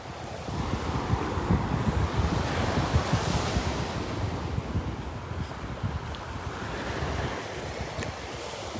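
Ocean waves washing onto the beach at North Naples, Florida on an outgoing tide, a steady rushing surf with wind buffeting the microphone, moderately loud and continuous, no voices.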